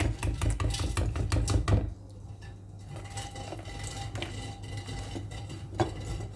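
A spoon clinks and scrapes in a bowl while batter is scooped and poured for a cake in a home kitchen, close and clattery, then softer stirring and taps.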